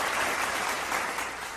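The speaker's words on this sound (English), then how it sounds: "That deserves some applause." Brief burst of applause, a dense patter of many hands clapping continuously for a moment at moderate loudness.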